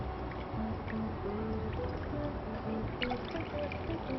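Water poured into a cooking pan on a stove, a continuous trickling pour with faint tonal clinks heard throughout.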